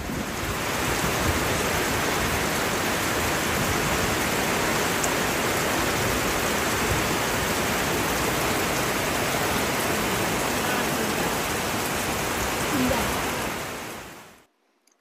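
Rain falls in a constant, uniform hiss that runs unbroken for the whole stretch before cutting off abruptly at the very end.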